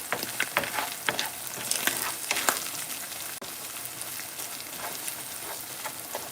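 Spaghetti sauce in a pan bubbles and sizzles steadily up close, with frequent sharp pops scattered through and no talking.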